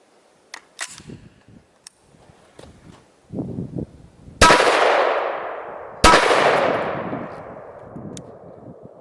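AR rifle firing 5.56 and .223 Remington rounds: light handling clicks and knocks, then two loud, sharp shots about a second and a half apart, each trailing off in a long echoing decay outdoors.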